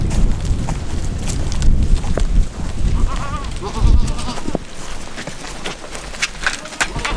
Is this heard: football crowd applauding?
no